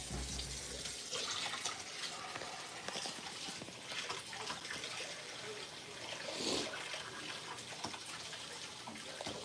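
Hot water poured from a kettle over a paper filter in a Chemex pour-over brewer, a steady close splashing and trickling stream that runs for several seconds with no talking.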